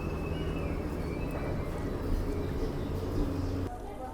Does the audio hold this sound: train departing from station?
yes